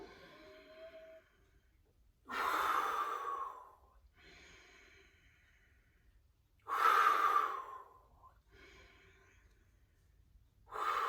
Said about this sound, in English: great big full breath in. And exhale